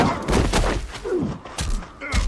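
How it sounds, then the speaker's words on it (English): Gunfire from a TV drama scene, heard as several sharp, sudden bangs in quick succession with some muffled thuds and brief background voices. "I hear gunshots."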